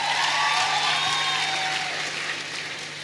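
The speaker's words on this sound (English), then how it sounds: "Yeah, you can clap for her." Short burst of audience applause during a talk, dense clapping fairly steady then easing slightly, with faint voices drifting over it.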